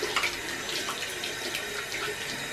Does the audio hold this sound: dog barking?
no